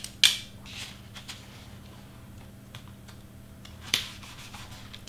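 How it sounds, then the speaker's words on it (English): Tape is pressed and smoothed onto a craft background, giving quiet rubbing and light tapping, with two sharper crackles near the start and end against a faint steady hum. "And we're gonna tape it down."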